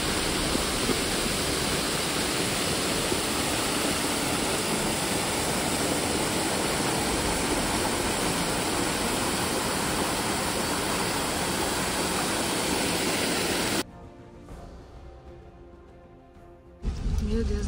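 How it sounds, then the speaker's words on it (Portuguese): Steady, dense roar of rushing water fills most of the stretch, then drops away abruptly near the end before briefly returning. "Tem uma cachoeira ali, eu acho. Olha o barulho."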